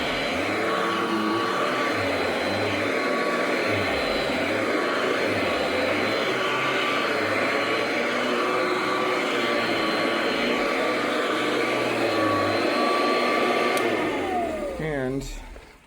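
A Royal model 885 vacuum cleaner running indoors, a loud steady motor whine and airflow roar held for a long stretch before winding down at the end.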